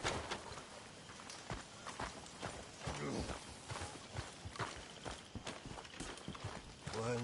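Horse hooves clip-clop at a steady trot in Red Dead Redemption 2, sounding close under a dense game mix with people talking over them.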